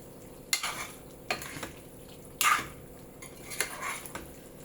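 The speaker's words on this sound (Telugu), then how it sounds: "ఇప్పుడైతే బాగా కలుపుకుందాం" Chicken curry with masala being stirred in a pan, a spoon scraping and clanking against the metal in several separate strokes over a faint sizzle, close and with no talking.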